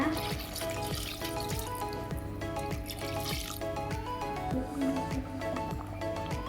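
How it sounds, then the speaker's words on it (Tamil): Water is poured into a pot of chicken biryani in a home kitchen, giving a continuous trickle with splashing drips, moderately loud throughout. "தண்ணி ஊற்றிக்கலாங்க"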